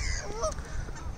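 Brief honking waterfowl calls outdoors on a calm day, faint and distant over steady low wind and ambient rumble, a couple of short nasal calls in just over a second.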